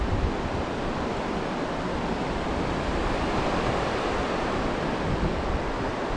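Ocean surf breaking on the shore at Ilha do Guaraú in Peruíbe as the tide rises, a loud, continuous broadband roar of waves with wind buffeting the microphone.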